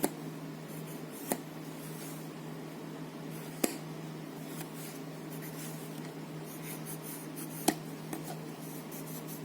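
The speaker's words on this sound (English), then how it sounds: "And now start drawing lines like that." A pen draws lines on folded paper, a faint soft scratching with a few light taps, quiet and close over a steady background hum, with no talk.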